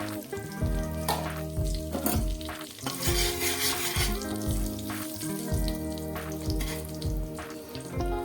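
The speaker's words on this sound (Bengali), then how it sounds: "আলু ভাজা তেলের মধ্যে আমি দিয়ে দিচ্ছি ফোড়ন, সাদা জিরে আর তেজপাতা।" Cumin seeds and bay leaves fry in hot oil left from frying potatoes, a continuous sizzle with repeated spatula stirring and scraping strokes against the pan, close and without speech.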